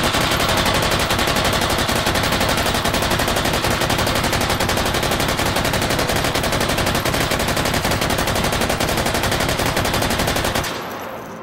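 Automatic gun in the VR shooter H3VR firing at an extremely high rate, a dense, continuous loud burst lasting about ten seconds before cutting off abruptly.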